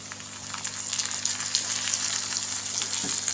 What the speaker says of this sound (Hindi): इस टाइम हम इसमें ये बड़े साइज़ के 4 टमाटर जो मैंने कट किए हुए इसमें ऐड कर दूँगी